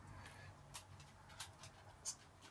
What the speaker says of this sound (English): this is my new puppy, little Coco.